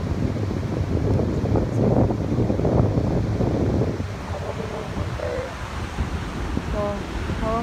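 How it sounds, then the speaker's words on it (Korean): Strong, continuous wind buffets the microphone with a heavy low rumble near a beach at Tofino, Canada, and surf or a water roar sits faintly underneath. "와 바람 소리 지금 바람 장난 아니야"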